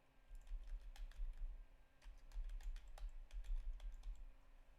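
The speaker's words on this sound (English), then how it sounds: "If I can use the keyboard." Quiet, close keystrokes on a computer keyboard patter in irregular bursts over a steady low hum, with no talking.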